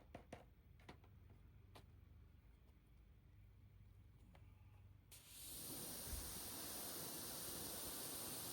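A water spray rinses cleaner off a car tire, starting halfway through as a steady broad hiss after a quiet stretch with a few faint ticks, and continuing evenly to the end.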